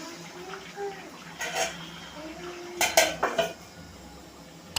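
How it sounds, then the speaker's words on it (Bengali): A metal lid goes onto a cooking pot of chicken kosha curry with a few quiet clinks and then a sharper cluster of clattering taps. The sounds are soft and close against a low kitchen hush. "বেশ নাড়িয়ে দিলাম, এবার আরো ঢাকা দিই।"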